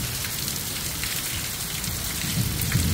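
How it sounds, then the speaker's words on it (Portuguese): Heavy rain pours steadily at night in Paramirim, Bahia, a dense, loud wash of drops on surfaces with low rumbling thunder building toward the end. "E não é que a chuva engrossou, hein? Trovões e relâmpagos, um atrás do outro."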